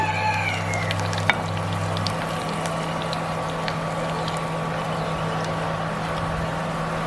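Onions fry in a pan for an eggplant curry, giving a steady, even sizzle under a constant low hum, with a faint distant rooster-like call near the start.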